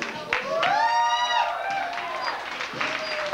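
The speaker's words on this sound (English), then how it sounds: "let's give them all a big round of applause" An audience at a beauty pageant applauds a contestant with dense, steady clapping, while a loud voice cries out over the noise.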